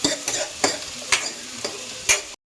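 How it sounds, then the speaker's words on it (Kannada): Onions browning in a pan sizzle steadily while a spoon stirs them in about six distinct, evenly spaced scraping strokes. The sound stops abruptly. "ಮಿಕ್ಸ್ ಮಾಡುವ ಚೆನ್ನಾಗಿ, ಅದೊಂಥರ ಬ್ರೌನ್ ಕಲರ್ ಬರಬೇಕು ಈರುಳ್ಳಿ"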